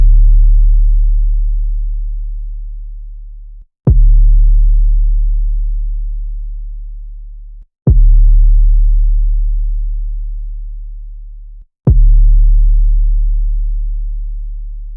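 An 808 kick drum shaped by a transient designer booms four times at an even, slow pace, each hit a sharp click followed by a long, deep sustained sub tail that fades before the next, loud and alone.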